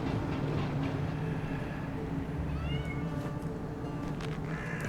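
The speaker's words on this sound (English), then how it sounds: "it sounds like the cat's voice was recorded inside a studio" Studio-recorded cat meows from the video game Trine 4, a few clear mewing calls with a slight echo heard over a steady game soundscape of music and ambience.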